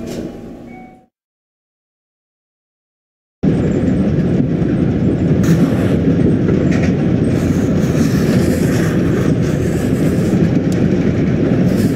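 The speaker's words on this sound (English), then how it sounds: "The train is here." A train in the video game Little Misfortune rolls in after a brief sound cut, bringing a loud, steady rumble with rhythmic clacking of wheels and occasional higher squeals that continues unbroken.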